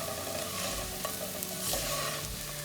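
Turmeric, salt, red chili powder and ground coriander stirred together in a pan on a low flame, giving a soft, steady sizzle with scraping and stirring, close and continuous, with no voices.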